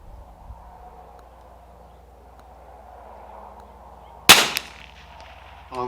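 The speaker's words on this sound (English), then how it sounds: "let's get another shot downrange" A single sharp .22LR rifle shot cracks out at a range with a quick, fading echo, set against a low steady background rumble.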